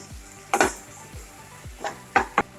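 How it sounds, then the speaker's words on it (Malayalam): A spatula scraping and knocking in a pan of chopped tomato and onions cooking for Kerala-style varutharacha chicken curry, with several distinct clinks and scrapes at an uneven pace, close and moderately loud. "നന്നായിട്ടൊന്ന് ഇളക്കി കൊടുക്കുക."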